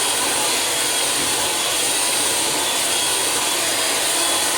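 A hair dryer blows continuously while drying hair for 80s styling, a loud steady broadband whoosh with no pauses or voices.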